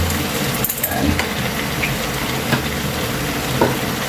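Bopis fries in a pan and is stirred, giving a loud, steady sizzle with a few scraping strokes of a utensil against the pan rising above it; no one talks.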